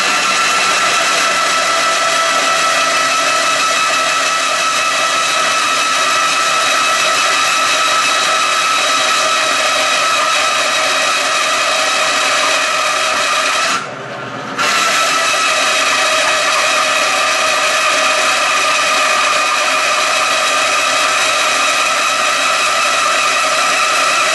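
A Falex oil test machine spins its wheel against a bearing, making a loud, steady mechanical whine and drone that holds without a break, apart from one brief dip.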